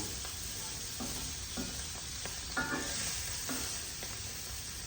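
Potatoes and tempeh fry in a pan with a steady, close sizzle, broken by a few soft scrapes of stirring; no one speaks.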